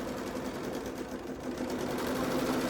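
BERNINA sewing machine stitching a quilt held in a magnetic hoop, a fast steady mechanical whirring hum running continuously at moderate volume.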